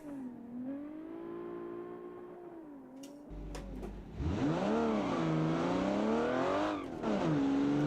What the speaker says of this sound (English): That is a very loud car from the outside.